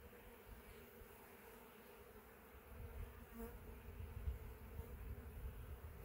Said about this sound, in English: Got quite a few bees on it.